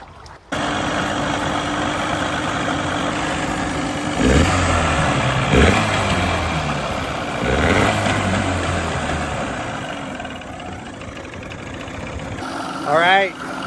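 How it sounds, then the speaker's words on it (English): A small outboard motor on a DIY skiff runs steadily on a windy day, fitted with a freshly cleaned carburetor, its low engine drone holding throughout with a couple of brief surges in revs, under wind noise and a voice talking. "All right, motor's running good."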